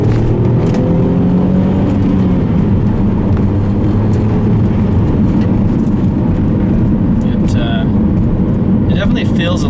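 A Saab 9-3 Aero wagon pulls hard in second gear, with a loud, steady engine drone and rising tones heard from inside the cabin, while a voice speaks over it near the end.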